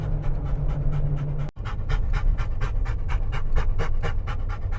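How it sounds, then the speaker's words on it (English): Rapid, rhythmic panting of an excited 10-year-old dog close up, quick breaths in a steady fast pattern, briefly interrupted by a sharp click. "This is sort of what it sounds like when a 10-year-old dog gets excited to go hiking."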